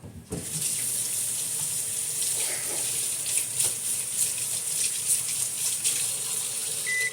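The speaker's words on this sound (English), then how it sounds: "About to wash my hands off." Hands being washed under a running kitchen tap, a steady close gush of water that starts abruptly and continues throughout without speech.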